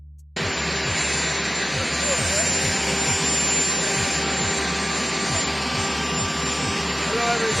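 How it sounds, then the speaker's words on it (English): An airplane engine drones loud and close, a steady roar with a sustained whine and rapid rhythmic pulsing underneath, starting abruptly and holding at full strength, with faint talk beneath it. "I hate this airplane sound"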